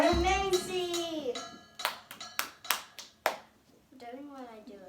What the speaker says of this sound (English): let's give a round of applause for Macy